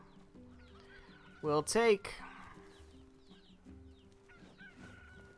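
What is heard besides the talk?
chicken clucking sound effect from video game NieR Replicant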